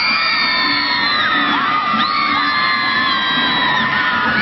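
A packed stadium crowd at a 1999 Women's World Cup group-stage match between the USA and Nigeria roars steadily and loudly, with shrill whistles and whoops rising above the din and no talk.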